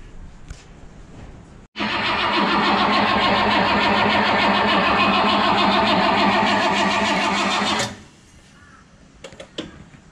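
A starter motor cranks a new 450 hp 351 Cleveland V8 engine in a loud, steady, rhythmic whir for about six seconds, then cuts off, leaving quieter background noise.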